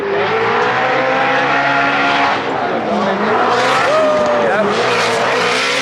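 Drift cars skid at a grassroots drifting event. Loud, continuous engine roar blends with long squealing tires throughout.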